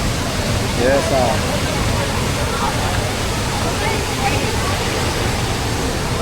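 Tegenungan Waterfall in Bali roaring steadily as a loud, dense rush of falling water close by, with people talking briefly over it.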